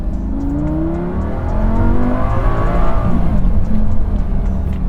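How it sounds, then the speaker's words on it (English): A Lamborghini Gallardo sports car engine revs and builds to a loud, throaty roar, the pitch climbing and holding steady, heard close with no talking. "the thing that dominates the experience more than anything else, without question, is that engine"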